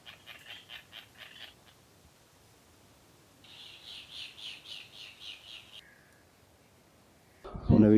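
Seabirds on a motu in the Tuamotu call in repeated rhythmic bursts, a rapid series of piping notes then a longer pulsing chorus, moderately close, ending with a sudden loud noise.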